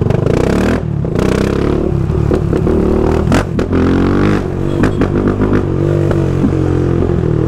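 A Honda CB Twister motorcycle fitted with an aftermarket exhaust revs loudly and continuously up close, the engine note rising and falling through repeated throttle blips with some mechanical clatter.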